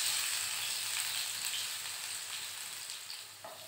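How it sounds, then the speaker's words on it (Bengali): Potato pieces fry in hot oil already used for fish, giving a loud, steady sizzle that eases slightly over time, heard close up with no voices. "আলুগুলো এবার ভেজে নেব।"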